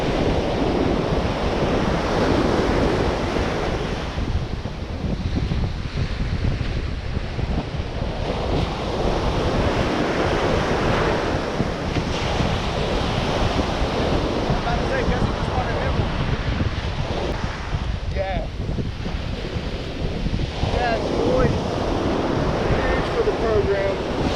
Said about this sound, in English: I guess that means we have a north wind.